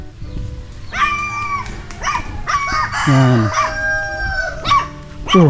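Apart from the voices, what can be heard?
dogs barking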